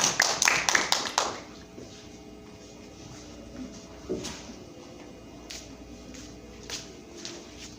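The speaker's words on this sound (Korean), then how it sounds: "하나님께 영광의 박수 올려드리도록 하겠습니다" Clapping in an online children's Sunday church service: a short burst of several sharp claps at the start, then scattered faint taps and rustles in a quiet room.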